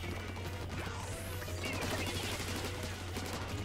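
Rapid weapon fire from the Splatoon video game, a continuous dense crackle of shots running through the whole moment over a steady low game hum, with no pauses between bursts.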